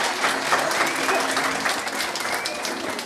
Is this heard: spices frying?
no